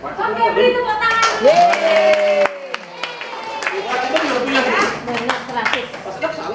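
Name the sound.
audience clapping hands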